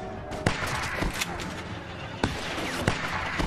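Gunfire in Telltale's The Walking Dead, Episode 3, comes as four sharp, separate shots spread over a few seconds, heard over steady game ambience and music.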